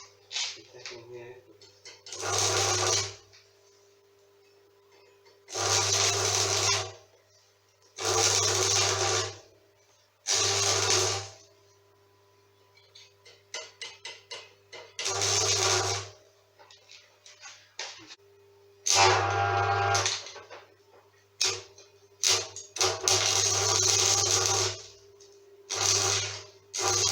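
Tack welds join the steel frame of a homemade electric scooter: about nine loud, buzzing, crackling bursts of a few seconds each over a low electrical hum, separated by quiet pauses, with occasional talk between them.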